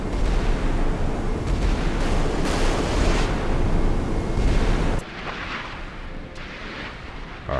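A warship in the Sea Power naval video game fires its guns and launches missiles: a sustained, loud roaring blast with rumbling booms throughout, which abruptly drops to a softer hiss and rumble partway through.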